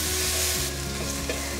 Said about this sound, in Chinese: 现在放入金针菇， 赶快翻炒，把金针菇的鲜味炒出来